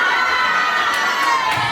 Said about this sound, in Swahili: Vigelegele na makofi wageni walikuwa.